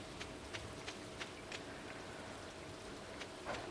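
Rain falling on the farm at night in the video game Stardew Valley, a soft steady patter with evenly spaced faint droplet ticks, quiet and without any voices.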